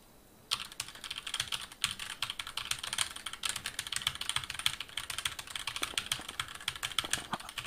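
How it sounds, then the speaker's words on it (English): Rapid, continuous typing on a computer keyboard, loud and close, with irregular clustered keystrokes running for several seconds and no talk. "What the fuck are you typing right now?"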